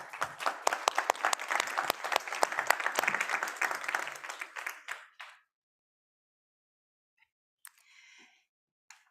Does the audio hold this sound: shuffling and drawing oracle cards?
no